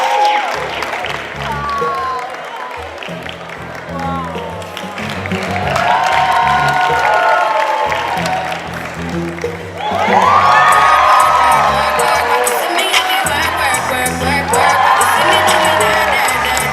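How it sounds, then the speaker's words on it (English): Crowd at the Lagos Fashion 2017 runway show cheering and applauding for the opening model, a sustained wash of claps and whoops that swells loudly twice over booming music, with talk mixed in. "Ladies and gentlemen, a round of applause for the opener of Lagos Fashion 2017, Gabriel on the runway."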